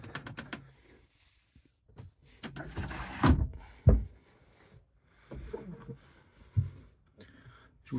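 Heavy drawers in an Autostar motorhome slide and thud shut several times at close range, with sharp knocks and scraping runners separated by brief quiet gaps.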